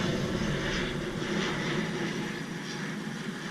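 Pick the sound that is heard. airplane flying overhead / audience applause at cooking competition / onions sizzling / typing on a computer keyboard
airplane flying overhead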